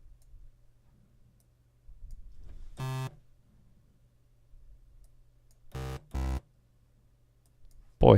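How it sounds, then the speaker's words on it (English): Serum software synthesizer playing three short loud buzzy notes, one alone and then two in quick succession, over a faint steady low hum and soft clicks. "Serum is just really loud out of the box."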